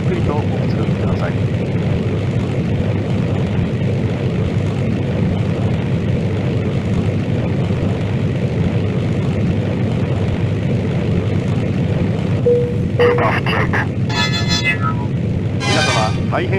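Propeller engine of a Jetstream 31 turboprop airliner in the flight game Jet de Go, a loud steady drone throughout, with a few brief chime-like tones near the end.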